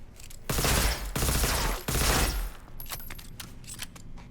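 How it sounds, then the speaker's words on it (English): A tech railgun in Cyberpunk 2077 fires through walls in three loud, heavy booming blasts about half a second apart, followed by a rattle of quieter impacts and debris. "something like a railgun, right? That fires through walls like this."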